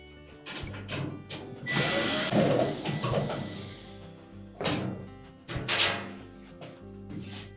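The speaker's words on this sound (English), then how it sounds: "So now we'll remove those 3 screws" Screws being removed from the top panel of an LG dryer, with clicks and short bursts of tool whir, a rattling metallic clatter, and sharp knocks and thunks spaced across the clip.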